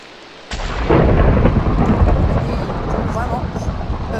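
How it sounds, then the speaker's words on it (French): Rain and thunder in Minecraft with shaders: after a brief quiet moment, a loud rolling thunderclap erupts and rumbles on under steady heavy rainfall, close and dense throughout. "c'est la première fois qu'il pleut quand j'ai le shaders"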